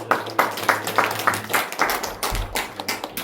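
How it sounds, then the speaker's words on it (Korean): A church congregation at a Sunday morning service claps in a loose, regular rhythm, each beat a sharp near slap, with a low sustained organ or keyboard tone beneath and a brief gap before the clapping resumes. "우리 하나님께 영광의 박수"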